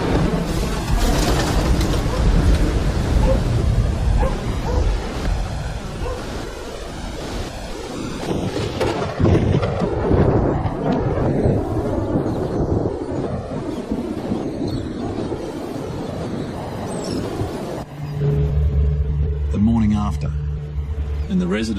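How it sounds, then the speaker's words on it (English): Cyclone wind roaring hard through a town, with constant loud gusting and buffeting against the microphone, and a calmer, quieter hum in the final seconds. "At 9 p.m, Cyclone Ida makes landfall. The wind tears through town."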